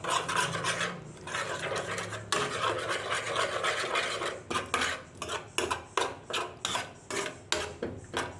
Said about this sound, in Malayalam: എന്നിട്ട് നന്നായിട്ട് മിക്സാക്കി എടുക്കുക.